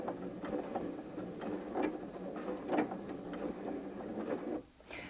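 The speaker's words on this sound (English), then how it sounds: "when I sew now, the machine will sew a few stitches on the spot and then stop" A Janome M200 QDC sewing machine sews a few stitches in place, giving soft mechanical clicks and ratcheting ticks in a loose rhythm, fairly quiet and close.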